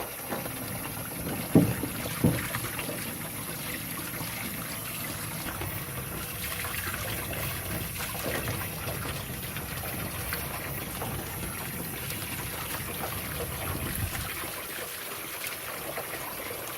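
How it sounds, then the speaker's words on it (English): Running water rinses clay off pottery tools and sponges at a sink, a steady trickling, splashing flow with a couple of sharp knocks early on. "You're going to wash all the clay off of all of your tools."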